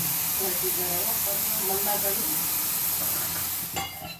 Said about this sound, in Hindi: अब इसे यहाँ पे उबालेंगे अपनी गैस पे